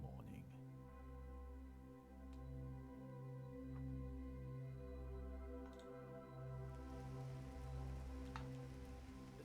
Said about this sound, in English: It was the same dark, rainy morning.